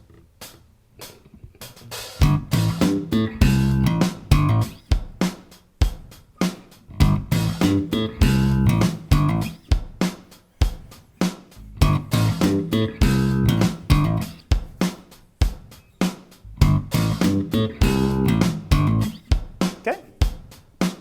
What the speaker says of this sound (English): we're going to play around a 2-bar basic slap groove and then insert a triplet fill on the 2nd bar.